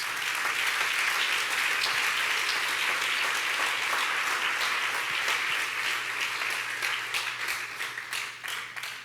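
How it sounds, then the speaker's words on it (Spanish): Church congregation applauding at a sermon, a sustained, dense wash of many hands clapping, loud and steady, then thinning slightly toward the end. "Denle un buen aplauso a Jesús entonces"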